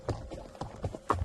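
Hooves clip-clop in a relaxed walking rhythm as a horse moves along a trail ride, each step distinct and close, with light ambient noise between footfalls.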